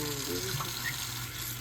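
Tap water runs steadily into a kitchen sink as collard-style cooking greens are rinsed, a continuous mid-level wash of flowing water with faint voices murmuring underneath.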